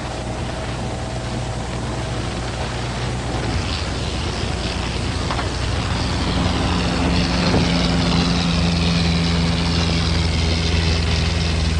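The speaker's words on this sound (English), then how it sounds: "Helicopter" Helicopter engine and rotor idling before takeoff, a steady loud droning hum with a low tonal whine that rises slightly partway through, heard alone with no talk.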